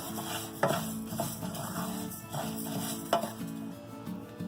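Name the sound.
flax seeds roasting and crackling in a pan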